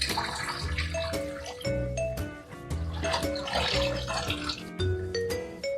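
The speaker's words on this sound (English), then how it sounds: "really gently drain the water and then move it to the colander" Water pours off sliced vegetables for Korean water kimchi (nabak-kimchi) as they are drained into a colander, a close, splashing trickle running in bursts beneath background music.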